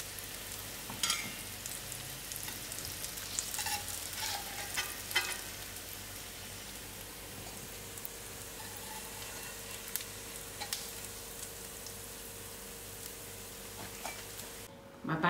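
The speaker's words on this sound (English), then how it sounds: "you can use a little extra oil in frying your kebabs" Banana kebabs fry in hot oil in a pan, a continuous soft crackling sizzle with scattered sharper pops, steady and fairly quiet from start to finish.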